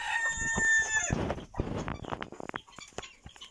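Bantam hens sitting on a perch in a poultry coop, clucking and calling near and fairly loud, with a sustained crow-like call in the first second followed by a run of shorter, irregular clucks.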